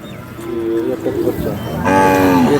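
A bull moos loudly and close at a busy bullock market at the Sangola fair, a long drawn call after low crowd murmur.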